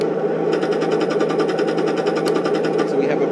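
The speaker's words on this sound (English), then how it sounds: "Also got the 50 caliber and 30 caliber sounds for the machine guns." Machine gun sound effects from a model M1 Abrams tank, a loud, rapid, steady rattling burst of fire with a buzzy electronic tone, close and continuous.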